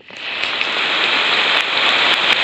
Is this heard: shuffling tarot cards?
no